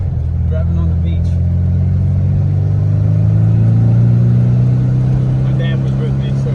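A Volkswagen engine with a carburetor runs steadily while warming up, a loud, continuous low rumble that swells slightly as it revs midway, with faint voices in the background.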